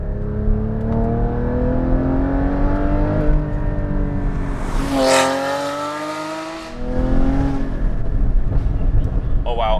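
Porsche Cayman GT4 engine heard from outside the car, loud and continuous, its pitch rising and falling through revs with a sharp swell midway, a brief dip and then a return to strong sustained engine roar.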